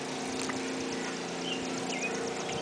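Wading through knee-deep flood water indoors, with continuous swishing and sloshing close by, steady and fairly loud throughout with no talking.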